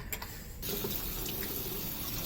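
Tap water pours steadily over freshly boiled pasta noodles in a sink, a close, continuous rushing that starts abruptly after a short quiet moment and holds for about two seconds.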